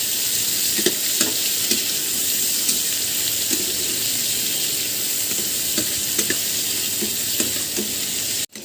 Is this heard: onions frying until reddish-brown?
yes